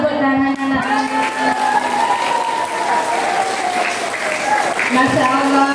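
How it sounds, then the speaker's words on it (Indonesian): Children clapping together during a Maulid Nabi religious gathering, a steady wash of applause throughout, with a woman's sung or chanted voice carrying over it. "Tepuk tangan anak-anak."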